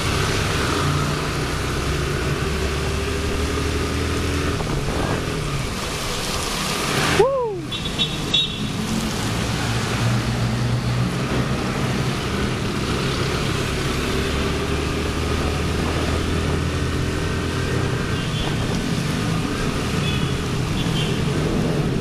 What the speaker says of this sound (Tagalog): Lakas ng daddy ng motor.